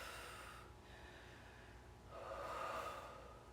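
A person breathing slowly through a yoga pose, a quiet inhale followed by a fuller exhale, soft and close with no talking.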